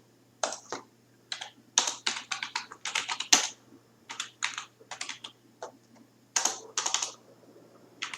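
Typing on a computer keyboard, in short bursts of quick, close key clicks separated by brief pauses, with a faint steady hum underneath and no voices.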